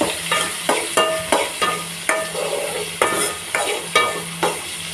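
Shallots and small tomatoes being sautéed in a pan for a dried anchovy curry, with a steady sizzle broken by repeated scraping stir strokes, close and fairly loud, no talking.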